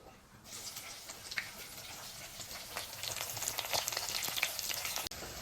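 Garlic, green chili and onion drop into hot oil and crackle, the sizzle building and growing busier over a few seconds, fairly quiet but close, with no talking.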